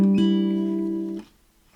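Acoustic guitar plucking a short phrase from a video game theme, a few clear sustained notes ringing then fading into near silence, with a fresh attack at the end.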